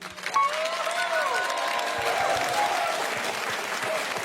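A concert audience applauds after a live piano-and-voice performance of a French pop song, with steady, dense clapping and some crowd noise carrying on for several seconds.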